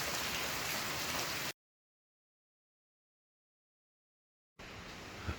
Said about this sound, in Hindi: बारिश तो पूरे जोर शोर से बरस रही है